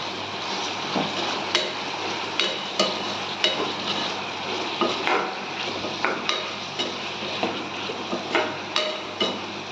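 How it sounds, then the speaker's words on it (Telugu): Food frying in a pan with a steady sizzle, punctuated by frequent rhythmic knocks and scrapes of a utensil against the pan, close and moderately loud. "జొన్న రొట్టెలు చేసుకొని తిందామని ఫ్రై చేస్తున్నాను"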